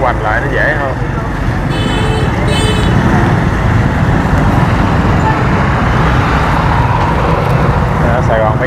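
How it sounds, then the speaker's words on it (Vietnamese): Dense motorbike and car traffic rumbles steadily on a rainy Saigon street, close and loud throughout, with a few horn toots and a siren-like tone briefly rising above the roar. "Sài Gòn bây giờ xe cộ rất là đông."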